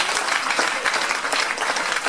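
A church congregation at a Tuesday preaching service breaks into brisk, dense applause, a close, continuous patter of many hands with no speech over it.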